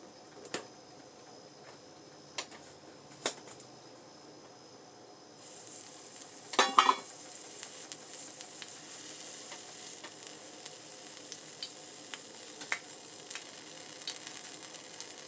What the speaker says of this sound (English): So we already have our frying pan on. And we're just going to sear it on both sides.